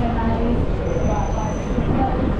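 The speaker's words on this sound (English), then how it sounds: "That's a D1 class 3532 with the artwork by Patricia McKean." A Melbourne D1 class tram, number 3532, with Indigenous artwork, passes close by with a dense rolling rumble and a thin high rail squeal partway through.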